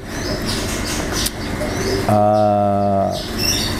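Pigeons or doves from a breeding flock coo close by, one clear rolling, pulsing call standing out over a background of other birds and faint wing flaps.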